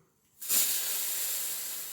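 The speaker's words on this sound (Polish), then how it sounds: "Myślę, że mogę tutaj wypuścić już nadmiar pary." Excess steam bursts out of a Hungarian Autopress type C electric coffee maker: silence, then a sudden loud hiss that holds steady and fades only slightly over the following second and a half.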